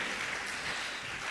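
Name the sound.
congregation clapping hands in praise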